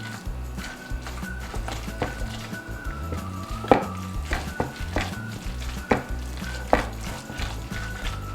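A spoon mixes tuna salad in a bowl, making a steady stream of close, wet scraping and clacking strokes at a brisk, regular rhythm over a low background hum.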